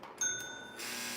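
A small metal model train switcher's crossing bell rings once with a bright, lingering tone over low hum and background noise.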